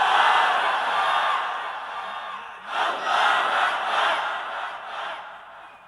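A large crowd shouts the takbir, Allahu Akbar, in a loud unified roar, then breaks into a second swelling round of shouting at a religious gathering.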